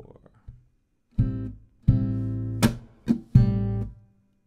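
Fingerstyle guitar picked slowly in a hip-hop pattern: a muted thumb thump, then several ringing bass-heavy strums and plucks with pauses between them and one sharp percussive slap. Quiet, close and played solo.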